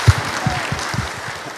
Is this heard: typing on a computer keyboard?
no